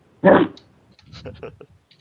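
A person imitates a dog with one short loud bark, followed by a few softer yappy woofs, close and alone.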